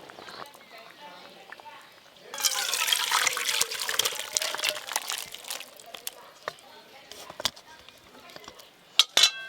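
Chicken curry with eggs poured out of a cooking pot, a sudden wet rush of liquid with clinking of pot and utensil, close, under occasional talk.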